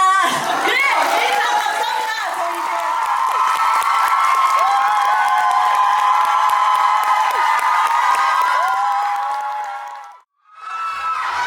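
A concert crowd at a Korean show roars with sustained cheering and high-pitched screams, loud and close, swelling in waves before cutting off abruptly near the end, then briefly resuming.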